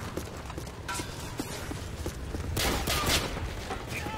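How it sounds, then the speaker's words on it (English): Video game gunfire, with a rapid run of light popping shots, then a louder, denser burst toward the end against a constant game background. "Why is this kid shooting?"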